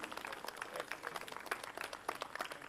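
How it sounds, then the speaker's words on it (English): An audience at an event claps for the finalists with brief, steady, fairly dense applause from a crowd heard at a moderate distance. "Let's have a big round of applause for them"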